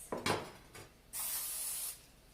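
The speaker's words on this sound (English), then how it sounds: "I'm gonna use my Pyrex glass pan. I'm gonna give that a spray." A steady hiss of cooking spray onto a Pyrex glass pan lasting under a second, close by, after a few soft clicks and handling sounds.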